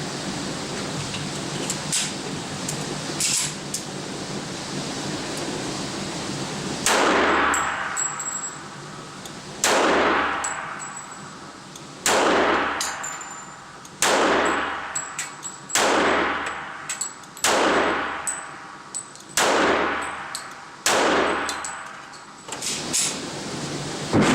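Schroeder Bauman 1911 American Patriot pistol firing about eight loud, sharp shots at a steady, unhurried pace, each ringing out with a long echoing decay, after quieter clanking handling sounds at the start.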